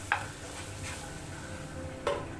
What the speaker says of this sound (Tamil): உப்பு சேர்த்துட்டு கொஞ்சம் மிக்ஸ் பண்ணி எடுத்துங்க.